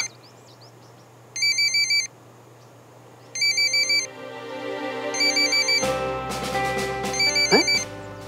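A phone ringtone sounds in a home drama scene, playing in repeated electronic bursts separated by short gaps. It is clear and fairly loud over a steady background hum, with a denser stretch of tones near the end.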